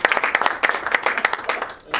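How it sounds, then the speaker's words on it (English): Audience applause at a humor event, a short burst of scattered hand claps mixed with a voice speaking over it, fairly close and lively. "So give yourself another round of applause."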